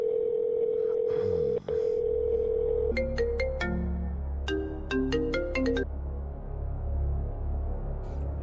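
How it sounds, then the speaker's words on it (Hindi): A phone ringtone plays a bright electronic melody of quick repeating notes over a low background hum, near and clear, with no talking. "भाई फोन आ रहा है।"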